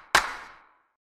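A single dry hand clap, the raw sample before any saturation, strikes once sharply and then decays into a short airy tail, alone with no other sound.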